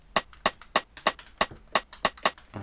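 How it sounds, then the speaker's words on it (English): Sharp rim shot hits from a TR-707 drum machine, eight or so crisp clicky strikes in an irregular pattern, each clean and dry with a short bright decay, heard alone. "those rim shots sound identical"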